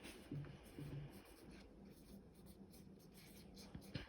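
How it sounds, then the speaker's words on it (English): A pencil or pen writes a name by hand on paper in short scratchy strokes, very faint and close, with quiet room noise in between. "Then I'm going to go ahead and write my name."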